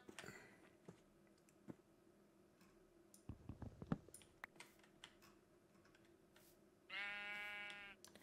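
A sheep in the Minecraft video game bleats once, a brief wavering cry near the end, heard among quiet keyboard typing and mouse clicks.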